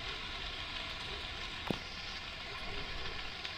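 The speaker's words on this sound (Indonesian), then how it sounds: "Hujan nih." Steady rain in the truck-driving video game World Truck Driving Simulator, a constant dense hiss with a brief sharp tap near the middle, with no talking.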